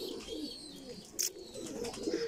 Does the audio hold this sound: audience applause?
no